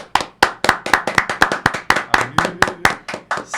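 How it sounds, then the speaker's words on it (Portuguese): A small group gives Pedro Minga a welcome of clapping: steady, fairly close handclaps in a loose rhythm, with a brief murmur of voices partway through. "Salva de palmas para o Pedro Minga."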